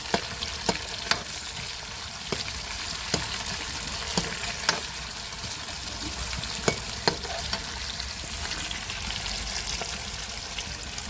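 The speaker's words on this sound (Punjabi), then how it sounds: "ਪਿਆਜ਼ ਨੂੰ ਹਲਕਾ ਗੁਲਾਬੀ ਹੋਣ ਤੱਕ ਭੁੰਨਾਂਗੇ" Onions sizzle steadily in a pan after cumin has been toasted, cooking for a potato and capsicum dish, with occasional spoon scrapes and stirring clicks over a continuous close frying hiss.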